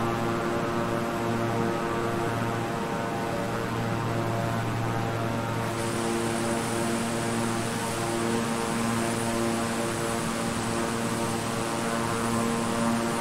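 Twin turboprop engines of a King Air 350i in Microsoft Flight Simulator drone steadily with a strong propeller hum and layered tonal whine, throttled to midway, constant and loud with no talking.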